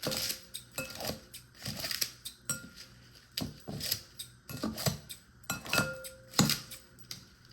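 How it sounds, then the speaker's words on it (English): Scissors snip repeatedly through bearded dragon food, a steady series of sharp, close clicks about twice per second, quiet and without talk. "I will take some scissors, and because this is still too big, I will chop it up some."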